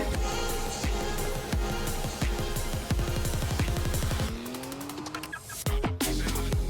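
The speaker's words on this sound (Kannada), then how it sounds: "ಸಾಸಿವೆ ಮತ್ತು ಜೀರಿಗೆ ಅದೆಲ್ಲ ಸ್ವಲ್ಪ ಸಿಡಿಲಿ" Mustard seeds and cumin spluttering in hot oil in a clay pot, a loud, dense run of sharp crackling pops close by, thinning into scattered bursts toward the end.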